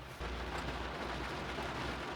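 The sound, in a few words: rain heard from inside a car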